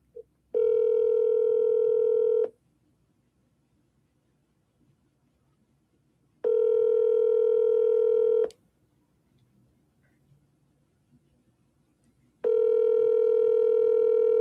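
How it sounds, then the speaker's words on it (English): Telephone call tones repeat in three steady, loud bursts of about two seconds each, separated by roughly four seconds of near silence, in a ringback-like pattern with no talk over them. "Pick up the damn phone, dude. I'm double dialing."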